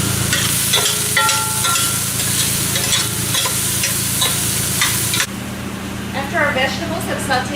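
Carrots, onion, celery and garlic saute in a pot, a continuous crackling sizzle with stirring scrapes under a speaking voice, then the sizzle drops quieter and softer partway through.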